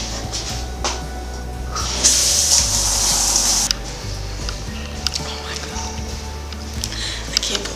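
Shower water sprays in a burst of steady hiss for under two seconds midway, set against quieter background sound during a college morning routine.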